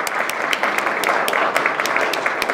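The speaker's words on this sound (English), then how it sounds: "we can just give a round of applause since she's not here" A round of applause for an award honoree at a community awards ceremony, steady dense clapping from a room of people, loud and continuous with a few sharper claps standing out.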